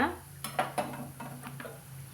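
Lentils and dried red chilies being dry-roasted in a pan, with a soft, close sizzle broken by several sharp scrapes and clinks of a spatula stirring against the metal at an uneven rhythm.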